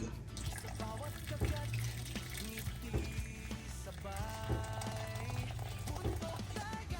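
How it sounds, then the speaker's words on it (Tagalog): Tap water runs steadily into a cooking pot of pork with salt and cubes being prepared for Kapampangan sisig, a continuous rushing pour heard up close, with a murmur of voices and kitchen noise in the background. "Lagyan natin siya ng tubig."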